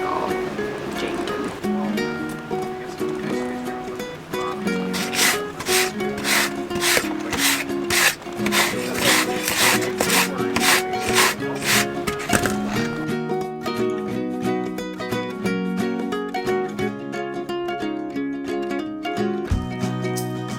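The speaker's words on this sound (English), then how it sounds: "I am just sanding them off right now" Steady rasping of sandpaper rubbed back and forth on wood to remove putty, with quick rhythmic strokes in the middle stretch; close and continuous, with no talking.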